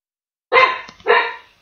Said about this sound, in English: I don't know what's going on with my dogs.